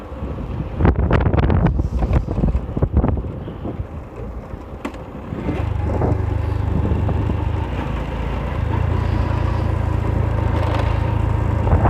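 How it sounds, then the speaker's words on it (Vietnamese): Strong wind buffets an outdoor microphone, with irregular loud gusts and rumbling bursts early on, then a steadier, louder roar of wind noise holding through the rest, with no talk heard. "gió đó"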